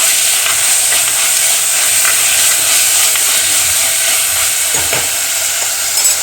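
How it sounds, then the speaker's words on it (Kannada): Onion, tomato, garlic, ginger, curry leaves and mustard seeds frying in oil, a loud, steady sizzle with faint stirring scrapes close by, no talking. "ಎಣ್ಣೆ ಹಾಕಿ ಸಾಸಿವೆ, ಬೆಳ್ಳುಳ್ಳಿ, ಕರಿಬೇವು, ಹಾಗೆ ಸಣ್ಣಗೆ ಹೆಚ್ಚಿದ ಶುಂಠಿ, ಹಾಗೆ ಟೊಮೆಟೊ, ಈರುಳ್ಳಿ ಹಾಕಿ ಚೆನ್ನಾಗಿ ಫ್ರೈ ಮಾಡ್ಕೊಳ್ಬೇಕು"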